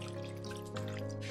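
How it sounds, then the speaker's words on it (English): Water runs into a Presto pressure canner in a quiet, continuous trickle with a faint hum beneath, a brief steady fill heard alone. "I am using a Presto pressure canner and I am filling it up to water"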